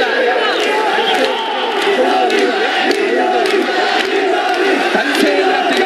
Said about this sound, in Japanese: 大声援になっています。 場内騒然となっています。